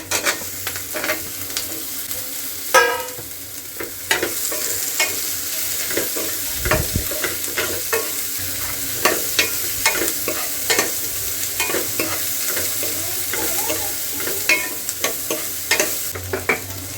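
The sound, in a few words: onion and capsicum frying and being stirred in pan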